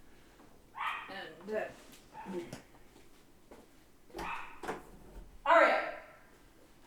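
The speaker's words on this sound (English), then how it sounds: "He got a treat to come down here and stop them barking" A pet dog indoors gives several short barks and yips in scattered bursts, close and moderately loud, with one sharper bark near the end, while a person talks in between.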